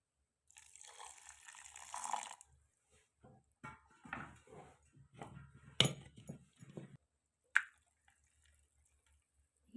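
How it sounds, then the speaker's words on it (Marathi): Water pours and trickles into a mixer jar holding sago and potato in short bursts, quiet and close, with a few small knocks and drips between the pours. "आपल्याला ह्याच्यामध्ये थोडंसं पाणी पण टाकून घ्यायचं आहे"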